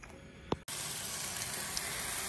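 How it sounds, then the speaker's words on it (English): Steady, loud sizzling of London broil steak searing on a hot Blackstone griddle, a continuous crackling hiss that starts abruptly and holds without pause. "See that sizzle?"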